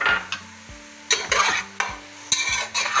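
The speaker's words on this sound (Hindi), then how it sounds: "इसको अच्छे तरीके से मिक्स कर लेंगे।" A spoon stirs masala with chopped fresh coriander in a pan, several separate scraping strokes at an uneven rhythm, close up, with a low sizzle underneath and no talking.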